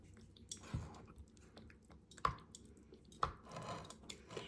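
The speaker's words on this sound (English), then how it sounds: "let me stir this up a little bit" Chicken corn soup stirred in a small pot, with soft scraping and sloshing strokes and a couple of sharper clinks of the spoon against the side, close and fairly quiet with no talking.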